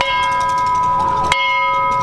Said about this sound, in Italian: vai, suona la campana